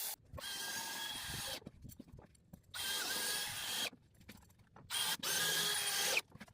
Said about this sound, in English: Using power tools connected to this compressor, the sealing and fastening are being done very quickly